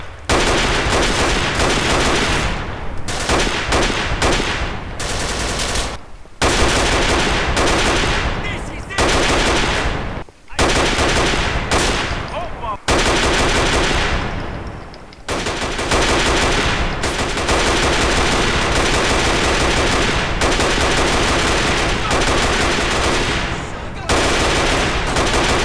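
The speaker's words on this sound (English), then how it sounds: "Ça tire!" Dense, loud automatic gunfire from the video game Grand Theft Auto IV rattles almost without pause, with long rapid bursts broken by a few brief gaps throughout.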